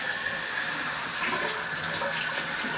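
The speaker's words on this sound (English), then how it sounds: "the first thing, of course, anytime you're cooking, is to wash up" Hands washed under a running kitchen tap before cooking homemade meatballs, a steady loud rush and splash of water, close by and continuous, with no talking.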